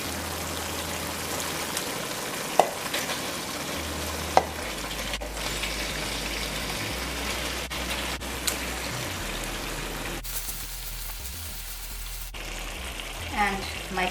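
Shrimp sizzling in a pan with melted tomato, giving a continuous loud frying hiss with occasional sharp pops and a brief quieter stretch partway through.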